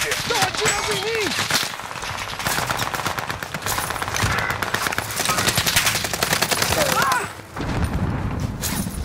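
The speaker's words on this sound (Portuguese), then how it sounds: "Estão atirando em mim!" Rapid automatic gunfire and single shots in Call of Duty: Modern Warfare, loud and dense bursts almost throughout, with a player shouting over the shooting.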